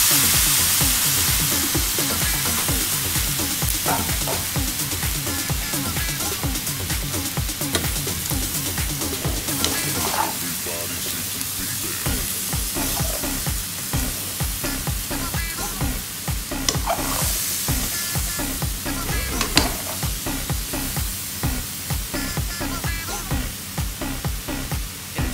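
Chicken feet adobo stirred in a pan with soy sauce, giving a steady loud sizzle with continuous scraping and stirring strokes throughout, no voices.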